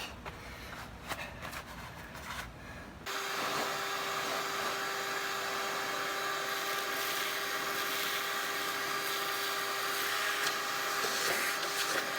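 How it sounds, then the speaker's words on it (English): After a few seconds of quieter rustling, a vacuum cleaner switches on and runs with a loud, steady whine and whoosh for the rest of the clip, sucking up rust and dirt inside a Volkswagen bus. "We'll vacuum that up real quick."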